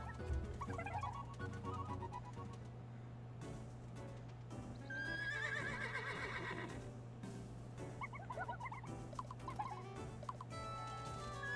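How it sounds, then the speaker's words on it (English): A horse in the video game Miitopia whinnies several times, with clip-clopping hooves, over a low steady hum, all fairly quiet. "We're gonna get our horsey!"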